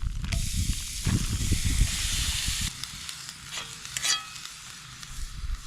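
Food such as ground sirloin sizzling and hissing in a very hot pan over a campfire, a loud, steady close-up frying crackle that eases into a quieter sizzle with a few stirring scrapes.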